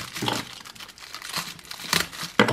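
Plastic packaging bags crinkle and rustle while parcels from China are unwrapped, with close, busy crackling bursts swelling and easing, and a sharper crackle at the end.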